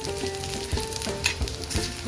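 Grated coconut roasts in oil in a pan, giving a steady close sizzle with periodic scraping strokes of stirring and no voices.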